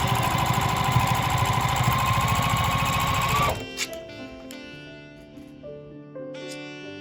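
A sewing machine stitches a jelly roll rug in a fast, steady whir for about three and a half seconds, then stops abruptly, leaving quiet, sparse clicks and small handling sounds.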